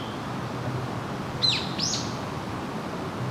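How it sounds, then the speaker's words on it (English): A couple of high, thin calls from a grey-faced buzzard ring out at a distance against steady background hiss, brief and piercing whistled cries, in forest at Fukushima University, Japan. "This is a bird called sashiba, a type of eagle."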